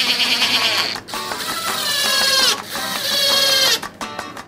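Screws driven into a CNC spoilboard to hold down an acrylic sheet, a power driver whining in several short bursts with rising and falling pitch, close and fairly loud.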